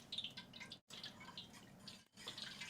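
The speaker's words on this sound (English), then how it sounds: "We'll go ahead and add that now. 1 quart of vegetable broth." A quart of vegetable broth is poured into a pot for a khao soi noodle soup, a steady, soft liquid splash running continuously with two brief breaks in the flow, fairly quiet and with no talking.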